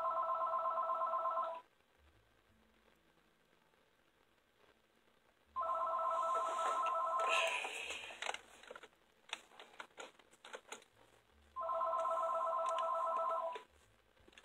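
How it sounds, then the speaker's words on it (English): A telephone rings in three separate bursts of steady electronic trilling, each about two seconds long with quiet gaps between, while soft clicks and shuffling fill the middle gap. "Phone is ringing"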